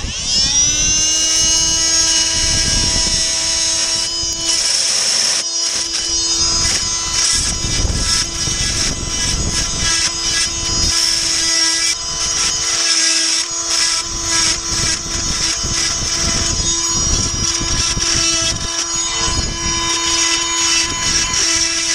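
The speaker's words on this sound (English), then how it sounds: "I decided to use the multi-tool with a bimetal bit and just shave off the heads of it." Oscillating multi-tool with a bimetal bit shaving off bolt heads on a truck bed cover, a loud, steady high-pitched buzzing whine held throughout with slight shifts in tone as it cuts.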